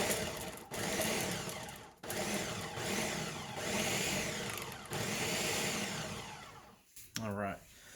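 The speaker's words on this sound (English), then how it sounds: "we're going to put this on here and pulse it a little bit" A food processor pulses roasted red pepper dip made with red wine vinegar in steady whirring bursts with brief pauses, loud and close, and a voice joins near the end.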